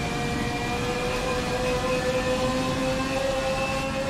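Lancia 037 Stradale engine in a racing video game, lapping the Nürburgring, a steady loud sustained engine drone with a high whining tone held throughout, no talk.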